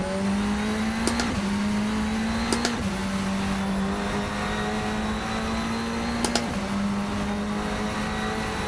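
A Radical SR10 XXR race car in a sim racing game holds a steady, loud engine drone, with brief gear-change blips breaking the tone every few seconds. No one speaks.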